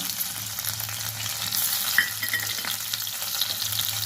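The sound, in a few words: chopped garlic frying in a pan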